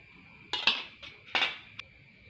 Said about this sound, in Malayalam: ദാ ഇത് ഒരു സ്പൂണ് കസ്കസ് ചേർത്ത് കൊടുക്കാം